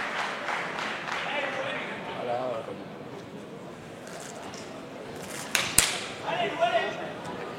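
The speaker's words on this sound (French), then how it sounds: "je voudrais qu'on applaudisse bien fort" A crowd at the Kick's Night 2024 kickboxing event applauds the international referee, a steady mid-distance wash of clapping under an announcer's voice, with a few sharp louder claps near the end.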